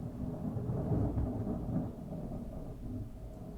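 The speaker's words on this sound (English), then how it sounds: "I feel like I've been getting more and more thunder lately" Thunder rolling as a long low rumble that swells and slowly fades, distant and fairly faint, with no voices.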